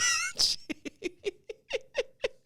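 A short high squeal followed by a run of about eight quick, soft, chirpy cat-like calls in a steady rhythm, fairly close and quiet.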